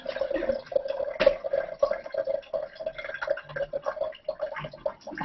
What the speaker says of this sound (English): I should be able to show you that if I just pour out the water